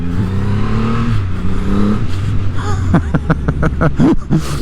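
Riding on a 2024 Triumph Rocket 3 R Storm motorcycle, the big engine hums and rises in pitch as it accelerates, then pulses through quick throttle blips and gear changes, close and loud, with a brief laugh mixed in.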